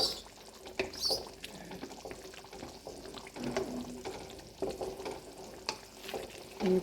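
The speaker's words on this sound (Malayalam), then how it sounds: "നമ്മൾ ഇളക്കി ഇളക്കി എണ്ണ ആയി വരെയാണ്" A spoon stirs and scrapes through bubbling coconut milk gently sizzling in a pan as it cooks down into virgin coconut oil, with repeated clinks and soft liquid sounds at close range.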